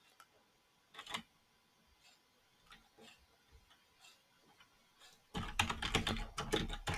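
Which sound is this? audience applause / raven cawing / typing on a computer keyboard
typing on a computer keyboard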